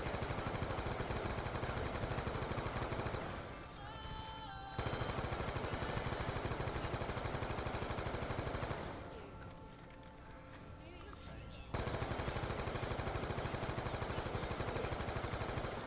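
Sustained automatic AN-94 rifle fire in a video game comes in loud, continuous bursts. Two brief pauses break the firing before it resumes, and speech is faintly present.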